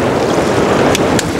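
Airboat skimming fast across open water with its hull riding high on the surface, giving a loud, steady rush of engine, propeller and wind noise with water spray throughout, with no voices.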